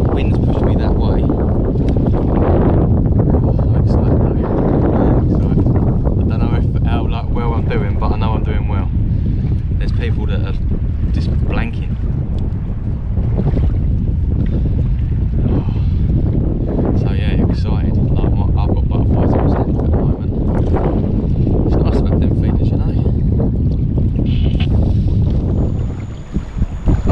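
Strong, gusting wind buffets the microphone throughout while a kayak drifts at sea in Oxwich Bay during a kayak fishing match, with water and waves faintly beneath the roaring rumble; the noise stays loud and continuous.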